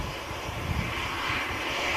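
Ryanair airliner jet engines at Manchester Airport, a steady, even roar from a plane heard at moderate distance, holding constant with no voices.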